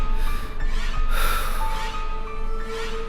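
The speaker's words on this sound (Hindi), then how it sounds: "तभी उसे किसी की सांसों की आवाज सुनाई दी, तेज और भारी सांसें।" Heavy, rapid breathing with sharp gasping inhales and snorting exhales, close and loud over a steady low rumble, repeating throughout.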